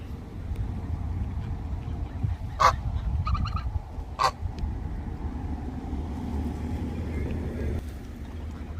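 Geese honk on a farm during a visit to feed ducks and geese: two loud, sharp honks stand out a couple of seconds apart, with a few softer calls over steady outdoor rumble.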